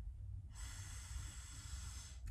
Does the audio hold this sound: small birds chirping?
no